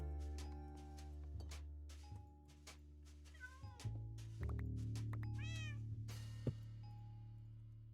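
Cats meow a few times, soft and fairly faint, with rising and falling cries over a steady humming musical background.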